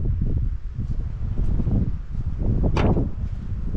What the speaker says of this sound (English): It's somewhat windy.